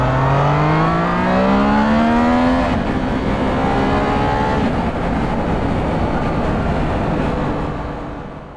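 Triumph Trident 660 three-cylinder motorcycle accelerating hard, its engine note climbing steadily in pitch through the revs, loud and close, with a rough shift partway through and continued strong pull with no voices.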